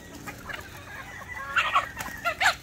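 Laying hens cluck in short bursts, faint at first then louder and closer toward the end, over a low farmyard background.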